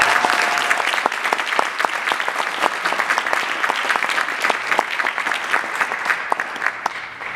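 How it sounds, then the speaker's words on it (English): Sustained audience applause for a school percussion ensemble's work fills the room at an even level for several seconds, dense clapping with a brief cheer-like tone near the start. "I would like to give a round of applause to Mr."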